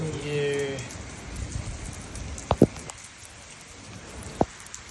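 Steady rain falls outdoors as a soft continuous hiss, with a few sharp nearby drips or taps. A brief tonal sound comes early on.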